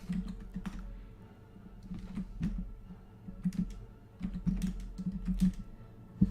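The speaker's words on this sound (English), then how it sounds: "Let's type in this." Typing on a computer keyboard: fairly quiet, irregular bursts of clicking keystrokes over a low room hum, with no talking.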